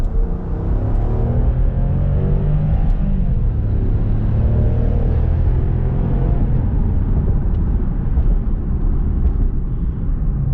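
A 2006 Maserati GranSport Spyder accelerates on a test drive, a loud continuous low engine roar and road rumble heard from inside the car, the pitch rising gradually as it builds speed.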